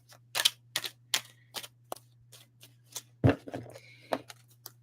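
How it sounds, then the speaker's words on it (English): A new tarot card deck being shuffled by hand, giving a series of sharp, dry card riffles and flicks in uneven bursts, close and fairly quiet over a steady low hum. "this is a bit hard to shuffle"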